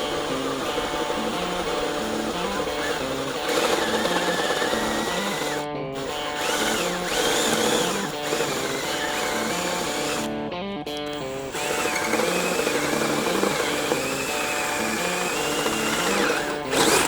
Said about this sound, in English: First, I will drill a hole in here so I can get the blade in easy.